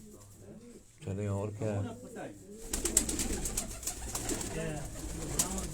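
Pigeons coo in low rolling bursts near a handler holding a high-flying pigeon, and someone speaks briefly over the birds before the sound turns busier and noisier.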